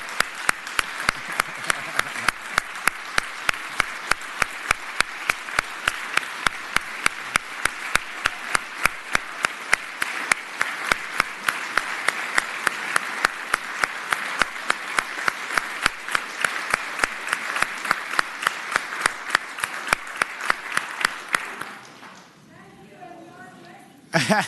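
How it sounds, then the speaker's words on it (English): Applause fills the Virginia Senate chamber for an honored guest, a long, steady run of clapping with rhythmic, synchronized beats throughout, fading out near the end before a voice resumes. "Go ahead and clap right"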